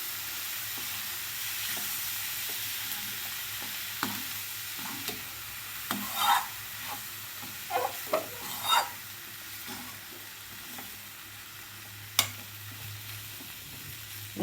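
Cooked whole masoor lentils, earlier boiled with turmeric and asafoetida, are stirred in a pan over a steady sizzle of fried onions. A spoon makes scattered scrapes and clacks through the middle of the stretch, up close, with no talk.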